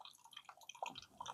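Water drips and trickles out of a portable water filter beside a stream, a faint, close run of small irregular splashes and droplets.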